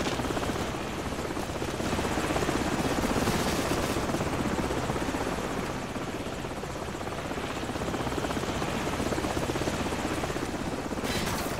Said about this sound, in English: grab a Stinger and take out that chopper